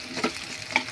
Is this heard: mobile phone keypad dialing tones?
no